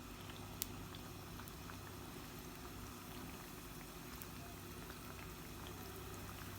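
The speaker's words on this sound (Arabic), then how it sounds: "خلي الزيت بس يحمى، ننزل حبات الباذنجان، بدي احمرهم على الوجهين." Eggplant slices fry in hot oil with a faint, even, continuous bubbling sizzle. A single small tick sounds early on, and no voice is heard.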